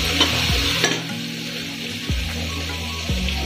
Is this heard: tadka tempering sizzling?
yes